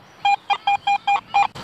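A metal detector gives six short, evenly spaced electronic beeps during an archaeological survey at the castle in Nowy Sącz. The beeps are clear and loud with no talk over them, and a burst of noise follows at the end.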